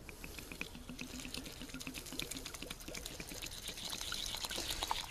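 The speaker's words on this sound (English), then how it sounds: "Now from here, I'm going to add some water." Water is poured into a can full of wax myrtle berries outdoors in the woods, a faint, continuous trickle and splash that grows slightly fuller toward the end.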